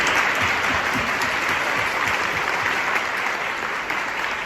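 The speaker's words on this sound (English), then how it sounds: "I'd love to just give her a round of applause." Sustained applause from an audience at a mother-daughter tea, dense and even clapping filling the room with no voices over it.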